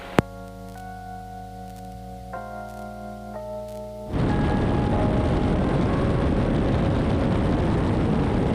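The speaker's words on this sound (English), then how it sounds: "taking off runway 22 departure to the west" A small plane takes off from runway 22, a steady engine roar swelling sharply midway and staying loud and close to the end, after a quieter stretch of tonal cockpit hum.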